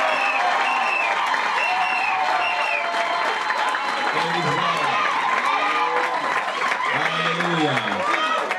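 Wedding congregation applauding and cheering throughout, a dense continuous wash of clapping and crowd voices with some speech mixed in.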